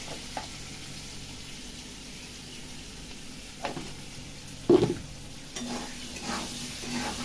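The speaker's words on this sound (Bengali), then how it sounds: "আলুগুলো একটু ভেজে নেবো, তলা কড়াটাতে ধরে গেছে।" Potatoes frying in a wok with a browned bottom, soft steady sizzling under scraping stir strokes and a sharp clank midway.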